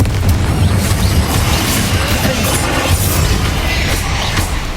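Confringo blasting spell in Hogwarts Legacy on PS5, a loud continuous barrage of booming explosions and crashing bursts filling the whole stretch, dense and close with no pause.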